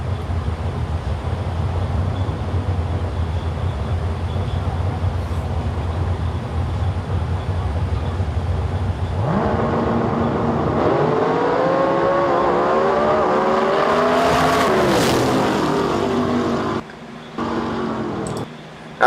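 Race cars in a live-streamed race, engines droning steadily at a distance, then several rising and falling engine notes as the cars accelerate and pass, loud and continuous with no talk.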